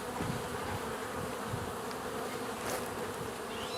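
Honey bees buzz steadily around hive frames where they are festooning on a sixth frame, a dense continuous insect drone close by with no talk.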